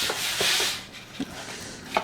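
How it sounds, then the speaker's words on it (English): Hands rubbing seasoning into the sides of a brisket make soft, close brushing and scraping strokes, a few light taps breaking up the steady friction. "Of course, you can rub those sides in"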